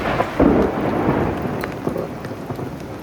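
Heavy rain pours steadily during a monsoon thunderstorm at Kondeshwar temple in Badlapur, with a loud, close thunder crack early on and a long rolling rumble that fades beneath the constant downpour.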